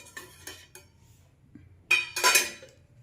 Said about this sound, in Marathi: कुकर उघडून पाहूया। झाकण काढून घ्यायचं आहे।